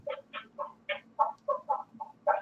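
A human voice imitates a chicken with a quick run of about ten short, clucking bawks in a steady, bouncy rhythm, fairly close and moderately quiet, with no other sound around it.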